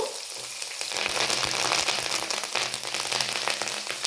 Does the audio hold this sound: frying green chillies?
yes